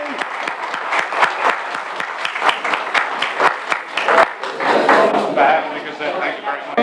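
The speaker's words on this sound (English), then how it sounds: "Let's have a big round of applause for Governor O'Neill" Crowd applause at a fife and drum company hall dedication honoring Governor O'Neill, steady dense clapping from many hands across the room with voices mixed in, fading slightly near the end.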